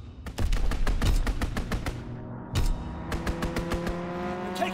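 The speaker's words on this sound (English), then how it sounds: "Fighter pilot inbound, strafing the target." Video game fighter plane strafing a target, rapid rhythmic bursts of gunfire in quick succession, a short pause, then another burst, loud and close over a steady background drone.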